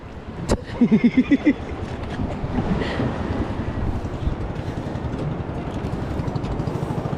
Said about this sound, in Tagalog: Ang laki ng mga alon ah.